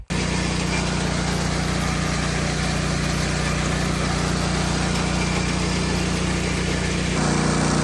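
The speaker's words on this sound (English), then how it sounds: "I'm gonna go grab that auger and get that wheat off there." A grain auger runs steadily to unload wheat on a farm during spring planting, giving a loud, continuous engine drone with a constant mechanical whine throughout and a slight change near the end.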